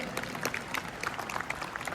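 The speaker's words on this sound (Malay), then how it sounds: "Bagi tepukan kepada seluruh diamond dan pakai diamond." Audience applause at an awards celebration for a team reaching Diamond rank, steady dense clapping with a few sharper claps standing out, moderately loud and without speech.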